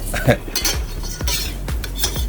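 Metal spatula scraping and clinking in a pan while a strawberry oatmeal pancake is flipped, several quick scrapes and taps close by.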